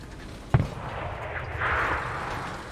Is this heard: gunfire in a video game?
yes